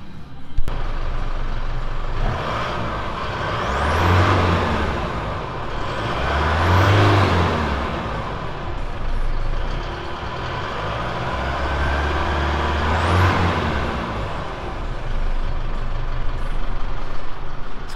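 An Isuzu D-Max engine idles and its exhaust rumbles close by. A steady, loud drone swells and eases in slow waves with no speech.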